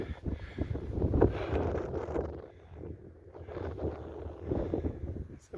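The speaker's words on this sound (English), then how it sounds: "A little breezy up here." Steady breeze blowing across a mountain top on the Appalachian Trail, a continuous rushing wind roar buffeting the microphone, rising and falling in gusts throughout.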